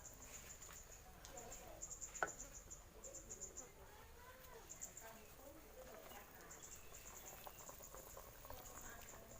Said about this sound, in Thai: ว้าว เดือดสุดยอดครับ